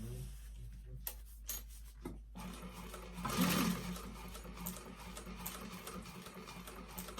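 A sewing machine stitching a tote bag hums faintly in short runs, with a few clicks and knocks between bursts and a slightly louder whirring stretch midway.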